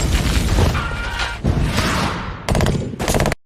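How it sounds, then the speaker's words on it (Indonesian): An explosion erupts amid a gun battle in a war film about American troops under attack, heard as heavy, loud blasts and rattling bursts of gunfire that cut off abruptly at the end. "Setelah terjadi ledakan"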